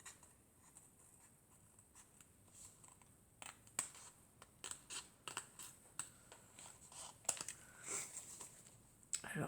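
Scissors cut paper for a botanical-themed scrapbook mug craft, giving a series of close, irregular snips and paper rustles that grow busier partway through over a quiet room.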